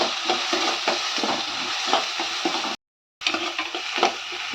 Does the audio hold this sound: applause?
no